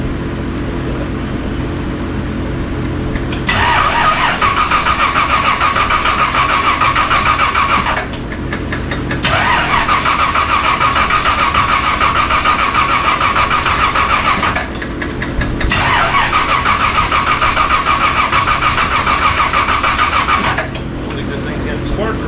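A Ford F100 truck engine cranks over in three long, steady bursts with short pauses between, loud and close, never clearly catching and settling into an idle; someone talks around the attempts.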